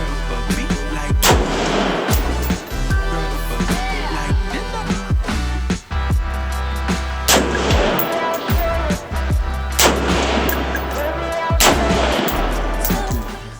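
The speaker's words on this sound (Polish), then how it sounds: "na szybko trzy strzały z Magtecha" Short-barrel AR rifle firing Magtech ammunition at an outdoor range, a series of loud, sharp cracks spaced at uneven intervals, with people talking between them.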